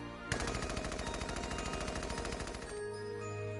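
Rapid gunfire in the video game Valkyria Chronicles 4 opens with a sharp shot, then rattles in a fast continuous burst for over two seconds before cutting off, loud and close, with no voices over it.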